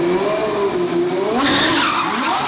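A DDE twin-turbo Ferrari V12 slides out of a garage, its tires squealing loudly against a rising and falling engine note, close and continuous throughout.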